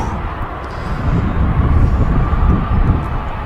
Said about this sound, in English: that is a really beautiful aircraft. The Swiss A220.